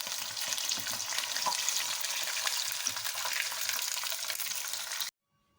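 Chicken pieces for a garlic steam roast sizzle and fry steadily in a hot pan, a loud, even crackle close by that cuts off abruptly near the end.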